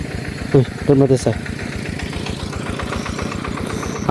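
A motorcycle engine idles with a steady mid-pitched chugging throughout, fairly close, while a person talks loudly over it near the start.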